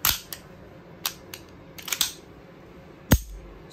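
A deactivated 9mm Mauser pistol in storage condition gives a series of sharp, close mechanical clicks, a few spaced singly and a quick cluster near the middle, with a louder snap toward the end over quiet background.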